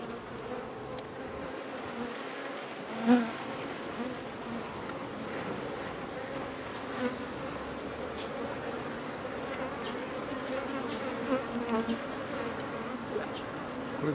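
A swarm of Japanese honeybees clustering on a collecting board drones in a steady, dense buzz throughout, with a few slightly louder passes of individual bees close by.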